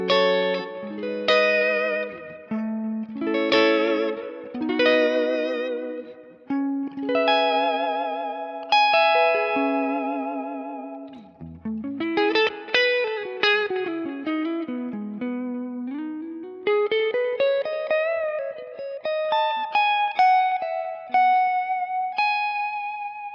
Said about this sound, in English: I can come up to my neck humbucker, I can kind of get that fat, clean neck sound